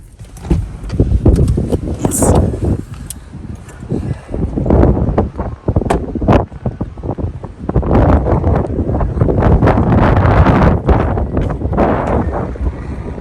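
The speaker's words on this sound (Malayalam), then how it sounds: "അത്യാവശ്യം നല്ല അടിപൊളി കാറ്റല്ലേ വെയിലുണ്ടെങ്കിൽ നല്ല കാറ്റ് ഒരു സുഖമല്ലേ" Strong outdoor wind gusts batter the microphone, a loud, close, fluctuating roar that swells and drops in uneven bursts across the whole stretch.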